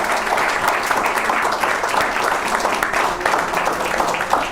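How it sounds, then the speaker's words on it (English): Steady, dense round of applause from delegates at a regional heads-of-government conference meeting, continuous clapping at even loudness throughout. "We'll have a round of applause for our presenters."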